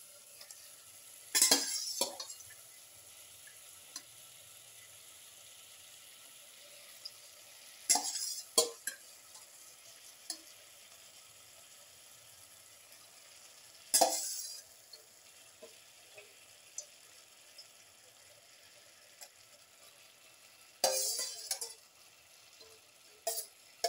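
Cleaned, deveined shrimp sizzle quietly in a pan while a utensil stirs them, bringing bursts of scraping and clinking every few seconds over a steady soft frying hiss.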